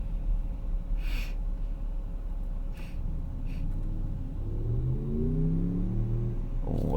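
A 2017 Dodge Charger with a V6 engine revs up from inside the cabin, the low engine note climbing steadily in pitch over a constant road rumble, with a few short breathy noises near the start.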